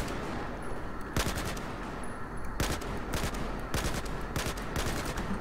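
Automatic gunfire from the video game Battlefield 4, several sharp bursts of rapid shots spread across the span, loud against a steady background of game noise.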